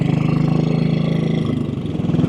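A 1957 British Royal Enfield Bullet 500 single-cylinder motorcycle runs close by with a loud, steady, rapid thumping beat that shifts slightly in pitch near the end.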